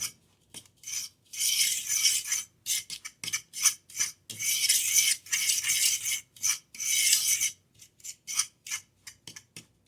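A fork stirs dry baking ingredients, flour with cinnamon, baking soda and salt, in a bowl: close, bright scraping and rasping strokes in quick bursts separated by short pauses, with no talking.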